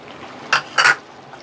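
A spoon stirs butter paneer masala in a pan, making two quick, close scrapes and a soft wet clink against the metal.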